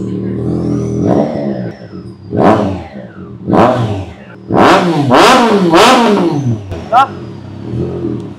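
A 2025 Triumph Trident 660 motorcycle fitted with an aftermarket exhaust, revved repeatedly in short sharp blips that rise and fall, close and loud, with several bursts running together midway and brief pauses between.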